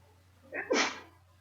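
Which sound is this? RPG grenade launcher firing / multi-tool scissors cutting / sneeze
sneeze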